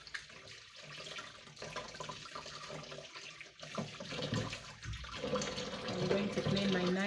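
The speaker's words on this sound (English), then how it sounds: "I'm just now going to wash it to do away with the dirt." Tap water runs as ginger is washed, a fairly faint splashing flow that grows louder toward the end, with voices mixed in.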